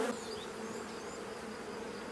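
Honey bees buzz steadily at a hive, a dense, continuous droning swarm close by with a few individual bees whining past at higher pitch.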